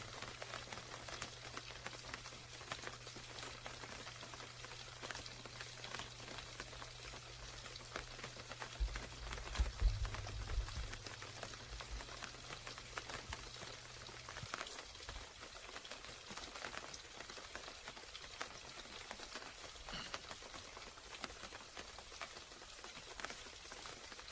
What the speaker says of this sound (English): can you guys hear that sound, that rain? Can you hear the rain?